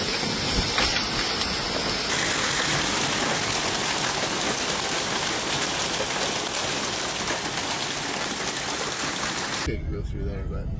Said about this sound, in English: Oh, here comes the hail.